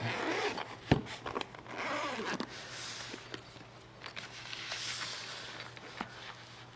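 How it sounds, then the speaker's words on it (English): A zipper on a jump starter's carrying case is pulled in several drawn-out rasping strokes, close by, with a few soft bumps and handling noises in between. "It's got a zipper on it."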